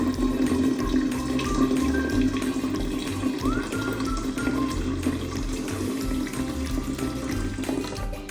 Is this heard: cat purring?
no